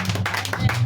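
A church congregation claps and applauds during a French-language sermon, a dense, steady patter of many hands filling the brief moment.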